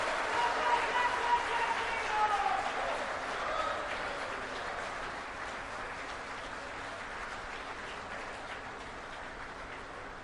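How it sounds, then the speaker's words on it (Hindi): An audience applauds to welcome a historic moment at an official event, a steady wash of clapping from a crowd heard at a distance, slowly fading, with a voice speaking over it. "करतल ध्वनि, तालियां बजाकर स्वागत करिए इस ऐतिहासिक पल का।"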